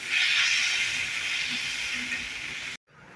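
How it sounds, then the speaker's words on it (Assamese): Cumin, coriander, turmeric and chilli dry-roast in a pan, giving a loud, continuous, airy hiss that tapers slightly before cutting off abruptly, then resumes faintly. "এতিয়া মই গোটেইখিনি ভালদৰে ভাজি ল'ম।"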